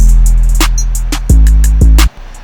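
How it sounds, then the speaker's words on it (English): A slow, moody hip-hop beat with drums just entering and no kick: snare and hi-hat hits over a deep sustained bass, loud and close with no voices. "And then when you bring the drums in,"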